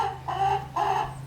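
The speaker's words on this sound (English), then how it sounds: "this is the rooster" A homestead rooster gives two short clucking calls in quick succession, close by, over a low steady hum.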